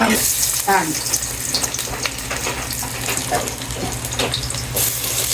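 Sweet gourd frying in a pan, a continuous close sizzle with stirring scrapes and watery bubbling on top, fairly loud and steady for the whole stretch.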